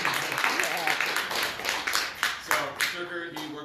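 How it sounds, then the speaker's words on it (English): Modest applause from a small audience welcoming a guest speaker, uneven clapping with a few sharper individual claps standing out, fairly quiet and fading toward the end. "give him a round of applause."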